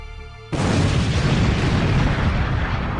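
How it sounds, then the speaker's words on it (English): A huge explosion in a Dragon Ball Super animated scene bursts in suddenly after a quiet half second, then holds as a loud, sustained roaring blast with rumbling debris until the end. "A huge explosion is heard."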